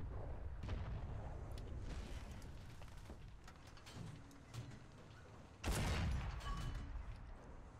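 Rumbling tank combat in War Thunder aboard an SU-85, with scattered sharp impacts and mechanical clatter, then a sudden loud heavy hit or blast near the end.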